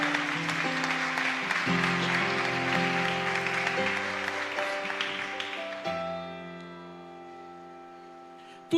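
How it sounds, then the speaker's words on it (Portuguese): A church congregation claps together over sustained organ or keyboard chords; the clapping fades after about six seconds while the music carries on alone. "Aplauda Jesus."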